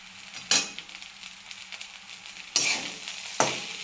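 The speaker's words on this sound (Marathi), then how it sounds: "आणि चांगला असा आपण परतून घ्यायचा आहे दोन मिनिटावर" Lemon rice is sautéed in a pan, with three distinct spatula scrapes standing out over a soft, low frying hiss.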